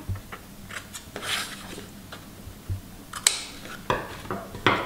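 Scissors snip the corners of paper while making a red-and-gold Christmas scrapbook album, a few short, crisp cuts spaced irregularly amid light handling noises.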